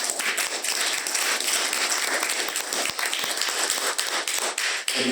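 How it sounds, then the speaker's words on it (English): Warm applause from an audience at a museum-hosted panel discussion, dense steady clapping filling the room throughout with no voices over it. "Let's give the Matheson Museum a warm round of applause for hosting."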